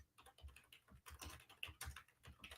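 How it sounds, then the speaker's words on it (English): Rapid, uneven typing on a computer keyboard, a busy clatter of individual key clicks close up and fairly quiet, with no talking. "That's me typing dramatically."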